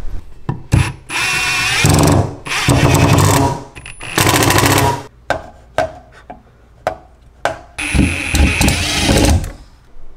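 A power drill drives pocket screws up into a wooden table frame in repeated loud whirring bursts of about one to two seconds each, separated by short pauses and small clicks.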